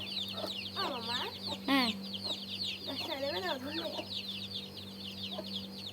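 Hens and chicks cluck and peep close by in a rural Sundarbans yard during feeding, with repeated rising calls and a constant chorus of high chirps, plus a low steady hum underneath.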